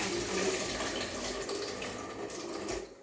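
Water running steadily into a vessel as rice is rinsed for Ambur biryani, a continuous close splashing wash that ends abruptly.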